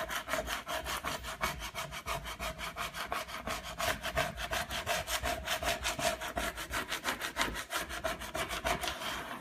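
Vinyl lettering being rubbed down onto a varnished wooden farmhouse Christmas sign: rapid rhythmic back-and-forth scrubbing strokes, close and steady for several seconds, with no speech.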